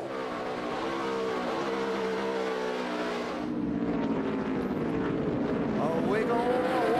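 NASCAR Sprint Cup race cars at Watkins Glen in 2011, engines roaring and shifting pitch as they pass under steady commentary, one car accelerating hard.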